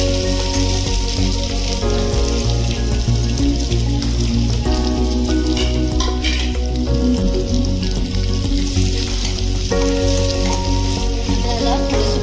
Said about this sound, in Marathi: त्यांना उभे चिरून घेतले आहेत आपण कांदे, असे बघा उभे चिरलेले आहेत ते टाकूया।